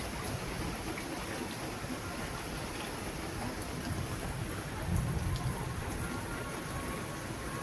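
Heavy rain pours steadily through a storm that has toppled a sapodilla tree, a dense continuous hiss with a brief swell of low rumble near the end, and no voices.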